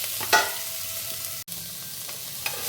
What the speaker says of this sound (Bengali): একটু জাস্ট ভেজে নিচ্ছি মশলার সঙ্গে